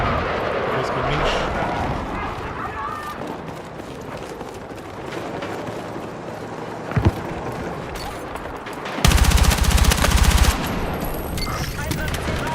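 Rapid gunfire in Battlefield 6 comes as scattered shots under busy battlefield noise, then a loud, close sustained burst of fast automatic fire near the end, with talk throughout.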